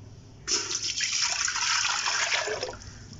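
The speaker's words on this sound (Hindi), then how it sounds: "इसमें हम डालेंगे 1 लीटर पानी" About a litre of water pours into a pressure cooker for haleem, a steady close splashing gush that starts abruptly and runs for nearly three seconds before easing off. No one speaks over it.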